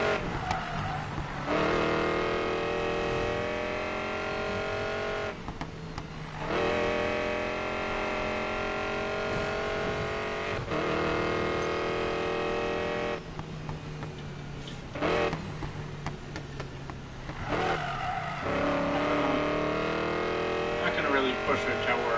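Racing-game car engine revving hard at high speed through a 5-speed gearbox, a sustained harmonic whine that drops off briefly between gear changes, with someone talking over it throughout.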